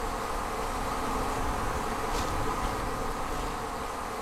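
Steady, dense buzzing of many honeybees, a continuous hum with no pauses, fairly loud and close, with no voices.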